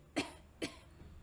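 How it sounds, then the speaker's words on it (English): A woman coughs twice in quick succession after swallowing grainy bread, short, faint and dry in a quiet room. "She coughed when she swallowed."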